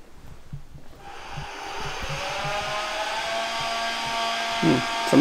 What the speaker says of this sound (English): Someone's vacuuming.